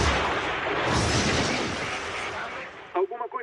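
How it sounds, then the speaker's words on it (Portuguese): On the cockpit voice recorder of Japan Air Lines flight 123, a loud broad blast of noise fills the recording and slowly fades, followed by a short burst of voices near the end. "Nós conseguimos ouvir uma explosão no gravador de voz."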